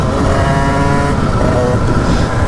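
Derbi motorcycle engine running steadily at a fast idle, a loud, dense buzzing drone close by with no clear revs, ahead of winter wheelie riding.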